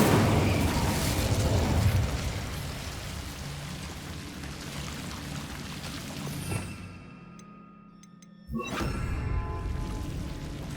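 A fiery Incendio spell blast from Hogwarts Legacy roars as a dense, crackling, rain-like burst that fills the first several seconds, fades into a near-silent gap, then flares up again with a sharp renewed eruption.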